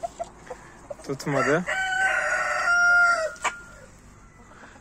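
A laying hen at a backyard coop lets out a loud, drawn-out, rising-and-falling squawking call close by for about two seconds, framed by a short spoken word and quiet surroundings.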